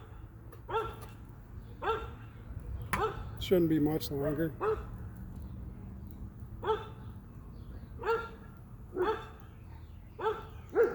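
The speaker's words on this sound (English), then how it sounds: "Hear my dogs barking in the background" Dogs bark repeatedly in the background, short sharp barks spaced every second or so, with a person speaking briefly over them.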